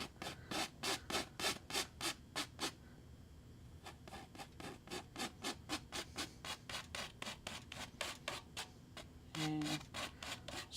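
Paint scraped across a painting of an old cabin: a long run of fast, evenly spaced scratchy strokes close up, pausing briefly before the steady rhythm resumes.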